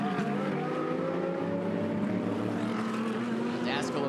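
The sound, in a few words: Ferrari 488 GT3 Evo race car engine during a race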